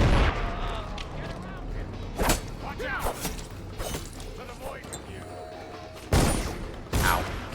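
Enemy gunfire in Dishonored, a few sharp loud shots spaced apart amid game clatter and thumps, with a person talking in between.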